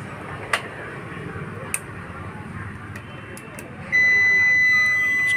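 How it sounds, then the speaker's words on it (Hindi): A UPS inverter's buzzer starts a steady electronic beep tone right after the unit is switched on, following a few small clicks and low room noise while someone talks nearby. "यहाँ ऑन कर दिए बजर साउंड ऑन"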